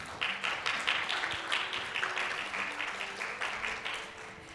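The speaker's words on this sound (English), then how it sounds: "Let's give him a round of applause." An audience at a corporate academy event in Singapore applauds, a dense, steady wash of many hands clapping at moderate distance, fading slightly toward the end.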